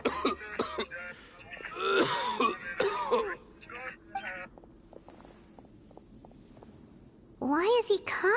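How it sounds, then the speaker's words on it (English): A Genshin Impact character coughs and clears his throat in several harsh, close bursts, broken by stretches of quieter background and short clicks. "Why is he coughing so much?"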